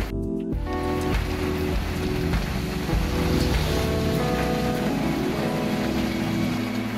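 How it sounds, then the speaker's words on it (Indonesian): Steady rain falls with a dense, even hiss that continues unbroken, accompanied by a low engine-like rumble and a brief louder knock at the start, with no talk. "Sampai di sini hujan."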